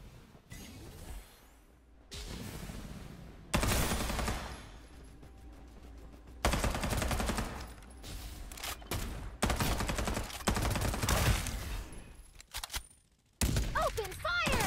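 Farlight 84 gunfire comes in loud, close bursts of rapid automatic shots separated by short pauses, with brief game sound effects between volleys.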